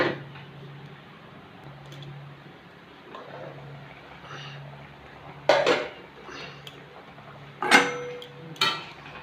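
A metal lid set onto a pot of fish curry, two or three clear clanks and rattles against a quiet kitchen background with a faint low hum.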